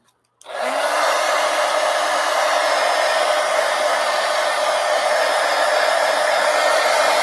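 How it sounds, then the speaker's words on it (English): A heat gun blows steadily while drying a collage artwork, switching on after a brief silence and then holding a loud, even roar with no change to the end. "Okay, so let's dry this. Hang on. Heat gun."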